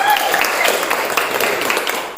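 Classroom group applauding as group 2 is called up, a dense burst of hand clapping at close range that carries on steadily for a couple of seconds.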